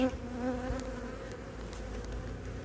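Dense, steady buzz of many honeybees swarming close around an opened beehive during a queen search and super inspection, a continuous hum with individual bees droning past.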